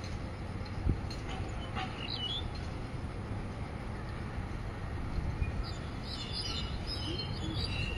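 Birds chirping outdoors near Kai Tak Stadium in Hong Kong: faint, distant tweets scattered over a steady background rumble, clustering toward the end with no talk.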